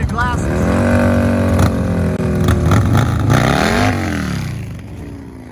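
A Harley drag bike engine revs loudly at a drag race, a deep throbbing roar with rising and falling pitch sweeps before fading slightly, while an announcer talks over it.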